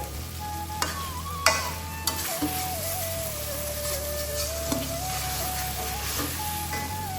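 Taro and hilsa fish-head curry being stirred in an open pan as it dries out, a steady sizzle with scraping spoon strokes and a few sharper knocks, close and continuous with no talk.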